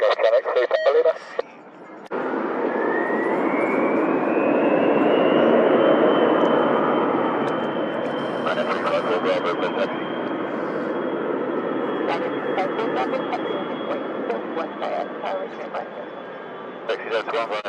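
A departing airliner's jet engines roar into a sustained, rising rush as it takes off from runway 32 at Leeds Bradford Airport, loud and steady, with air traffic control radio chatter briefly audible at the start.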